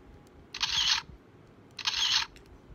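Toy vlogger camera from a doll play set making its electronic noise: two short, bright bursts of sound about a second apart, moderately loud over a quiet background.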